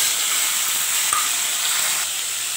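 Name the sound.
potatoes frying in oil with cumin and black cumin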